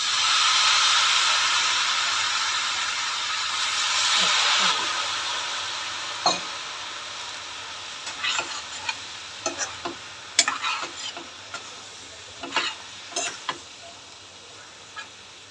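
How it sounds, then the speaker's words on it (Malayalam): Water sprinkled into a hot pan on a medium flame bursts into a loud hissing sizzle that slowly fades, followed by scattered scrapes and taps of stirring in the pan. "അതുകൊണ്ട് ഞാൻ ഒരു ഇച്ചിരി വെള്ളം ഒന്ന് ഇങ്ങനെ തളിച്ച് കൊടുക്കുന്നുണ്ടേ"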